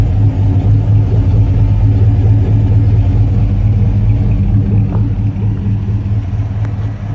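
A carbureted 5.3 V8 fitted with a Spintech exhaust, running at a steady idle with a deep, throbbing, even rumble, close and loud throughout.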